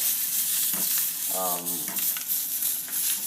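A steady loud sizzle of hot dogs frying in a hot pan, with brief stirring noise and a short voice in the middle.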